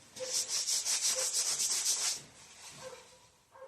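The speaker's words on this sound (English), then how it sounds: "aside from a little sanding on the back edge" Rhythmic sanding strokes on the back edge of an arcade control panel, about a dozen quick back-and-forth rubs in a steady run, then a pause and a few softer scrapes near the end.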